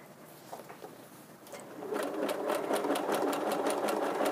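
A sewing machine stitches fabric string into a small coiled bowl, starting with a few soft taps and then running steadily with a quick, even rhythmic chatter close by.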